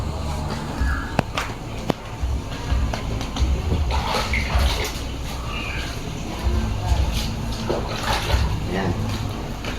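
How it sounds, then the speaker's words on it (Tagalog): Water poured and splashing steadily at close range, with people talking intermittently over it and occasional knocks. "So maglagay muna tayo ng tubig."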